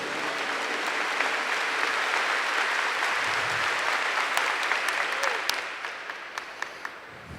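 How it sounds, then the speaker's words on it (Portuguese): An audience at a church service claps together in a steady, dense wash of applause that gradually thins out, leaving scattered individual claps near the end. "Aplauda o Senhor por isso."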